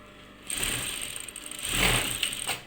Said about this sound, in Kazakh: закрепка жасап тігіп аламыз